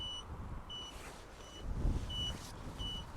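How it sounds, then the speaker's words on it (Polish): A cheap two-seat microcar, left with the driver outside, emits a faint, repeated high warning beep at a steady interval under low outdoor background noise. "to chyba jest jakiś sygnał"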